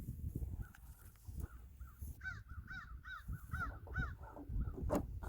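Crows cawing outdoors in a quick run of harsh repeated calls, fairly faint against low background rumble and handling noise, with a human voice heard among them.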